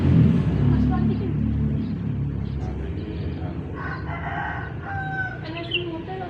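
A rooster crows outdoors, a drawn-out call rising midway, with clucking fowl and a low rumble of background noise around it.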